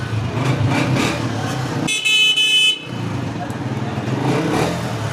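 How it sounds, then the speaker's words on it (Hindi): A 2019 Honda CB125F motorcycle engine runs with a steady rumble, cut briefly by a short horn beep, then the engine carries on. "इशारे से साउंड भी सुने। Honda 125 self start."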